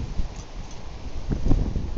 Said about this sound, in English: That's a windy morning this morning. Very windy.